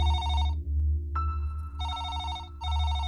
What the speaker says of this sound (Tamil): என்ன ஃபோன் அடிக்குது